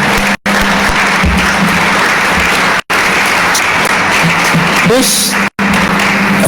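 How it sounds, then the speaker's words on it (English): An audience at a guide dog class graduation ceremony bursts into loud, sustained applause, a dense wash of clapping filling the room and continuing without letup. "How about a big round of applause for this beautiful class?"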